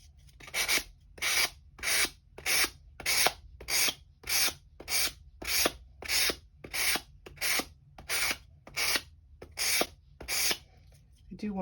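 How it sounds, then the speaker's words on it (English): A sanding block is stroked back and forth across the edges of a small handmade 1:12 scale vintage refrigerator model, giving about fourteen even, close rasping strokes in a steady rhythm with no talking. "I'm going to take my sanding block and just kind of soften up those edges so that they're not quite so"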